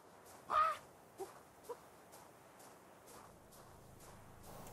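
A creature in the ARK video game lets out one loud, harsh crow-like squawk, then two shorter, fainter calls, over a quiet ambient bed with soft rhythmic footsteps.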